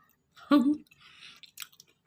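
Someone chewing a mouthful of kappa (tapioca) with mutton fat curry, heard as a brief close, wet chew and a couple of soft mouth sounds in a quiet room.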